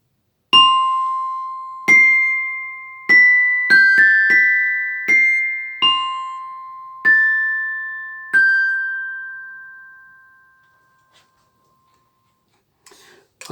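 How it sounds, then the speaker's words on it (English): A glockenspiel plays about ten bright metallic notes, each ringing out and fading, then a long decay into near silence with faint clicks at the end. "The glockenspiel's bars are made of metal and they make a very high, tinkly sound like this."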